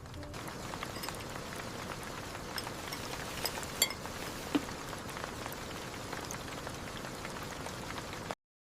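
Steady rain patters on a surface, a dense even hiss with a few louder drops standing out, then cuts off abruptly.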